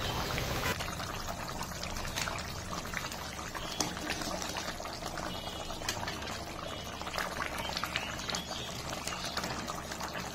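A pot of Bengali shol fish curry in a spicy oil gravy simmers on the stove after the fish is added. Dense, continuous bubbling and soft popping stay even and close throughout, with no talk.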